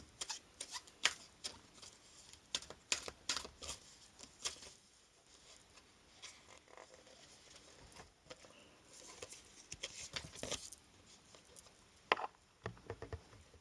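Cards from an Animal Spirit Guides oracle deck are shuffled and one is drawn, giving soft, quiet riffling and flicking sounds in short irregular bursts with brief pauses.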